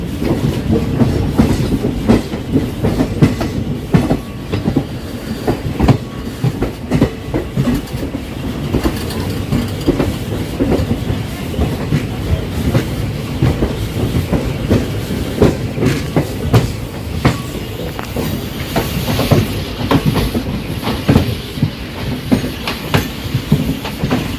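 Intercity superfast express train running on rails near the Netravati bridge approaching Mangaluru junction in Kerala route, a steady loud rumble with continuous clickety-clack of wheels over rail joints throughout, no voices.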